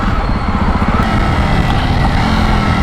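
A Jawa Perak motorcycle rides along countryside roads, its engine thrumming loudly and steadily up close over constant wind and road rumble.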